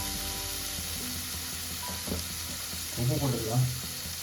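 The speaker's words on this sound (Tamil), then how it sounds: "சரி, வெங்காயம் கொஞ்சம் வதங்கிக்கலாம்" Onions sautéing in a pan, a steady close sizzle with spoon-stirring scrapes toward the end, under a short spoken remark.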